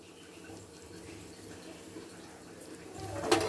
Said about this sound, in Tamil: இப்போ பாருங்க இந்த மாதிரி நல்லா கொதி வருது